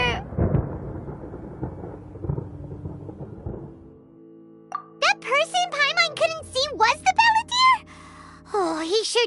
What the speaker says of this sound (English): Paimon used thunder!